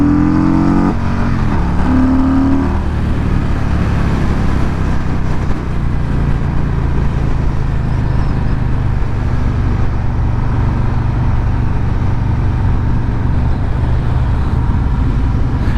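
A 2021 Harley-Davidson Street Bob motorcycle engine runs steadily on the road, a loud, continuous low rumble with a brief higher mechanical note near the start, no voices.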